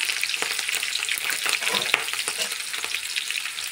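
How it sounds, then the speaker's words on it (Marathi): Cumin, green chillies, garlic and curry leaves fry in hot oil with mustard seeds in a pan, giving a steady dense sizzle with crackling pops throughout, close and alone with no talk. "मी थोडंसं तळून घेतली."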